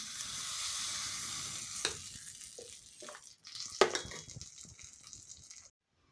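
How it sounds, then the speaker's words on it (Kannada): Mustard seeds, cumin and chili crackle in hot oil as a tempering for a wild mango mustard sauce, a soft sizzle with a couple of sharp spoon clinks that fades to silence. "ಒಗ್ಗರಣೆ ಹಾಕ್ತೀನಿ ಸಾಸಿವೆ ಜೀರಿಗೆ ಮೆಣಸು ಹಾಕಿದ್ದೀನಿ"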